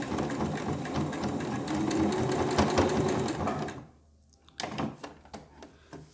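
A sewing machine stitches binding onto a fabric dishcloth, a fast, steady mechanical whirr for about four seconds that stops abruptly, followed by a few short bursts of stitching and handling noises.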